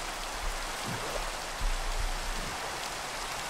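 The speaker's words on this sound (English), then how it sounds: "It's raining pretty hard" Heavy rain falls in the Minecraft video game, a dense steady hiss with a few low thumps underneath, continuous and evenly loud throughout.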